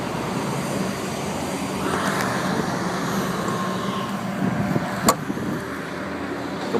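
A turbocharged 2013 Dodge Dart Rallye multi-air engine runs with a steady, even hum close by, and a single sharp click sounds near the end; no one speaks.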